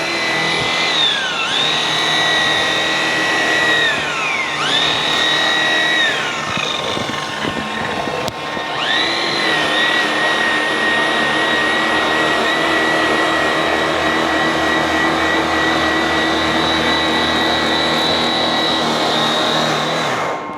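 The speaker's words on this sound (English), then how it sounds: "So now I'm just buffing right over the top of her hand polish." A power buffer whines loudly and steadily while polishing a pitted metal cattle bumper, its pitch dipping and rising as pressure changes, with a brief pause before it runs on continuously and no voices.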